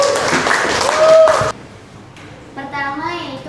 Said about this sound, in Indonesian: Kita berikan tepuk tangan dulu buat teman-temannya.